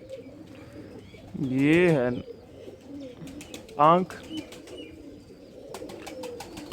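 A male pigeon gives two short, throaty coos at close range, one longer and one brief, between quiet spoken remarks in a pigeon loft.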